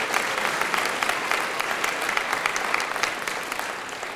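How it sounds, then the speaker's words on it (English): Sustained applause from an audience at a Milwaukee Fire Department award event at Grant Elementary school, steady dense clapping held at an even level throughout. "Let's have a big round of applause for the Fire Department"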